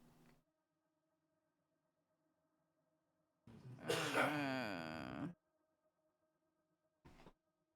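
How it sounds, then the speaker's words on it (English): A single harsh vocal outburst, like a throaty cough or groan, lasting over a second, with brief faint sounds before and after in otherwise near silence. "Sorry about that cough"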